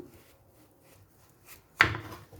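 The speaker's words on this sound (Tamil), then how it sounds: "இந்த சுரைக்காவோட நுனி பகுதியை கட் பண்ணி தூர எடுத்துடலாம்" A knife cuts the tip off a bottle gourd in a home kitchen, giving one sharp chop after a quiet lead-in, close and fairly loud, then a short fading rasp.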